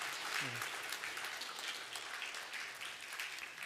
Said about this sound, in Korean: 우리 큰 박수로 축복해 주시면 감사하겠습니다